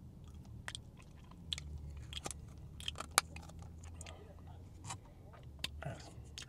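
Close-up chewing of shawarma topped with green sauce at a Mediterranean street food spot, with soft wet mouth sounds and small crunchy bites under quiet background noise.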